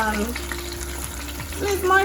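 Chinese five spice chicken wings cook in a pot with a steady bubbling, sizzling hiss throughout, fairly loud and close, with faint clinks of stirring and no talking.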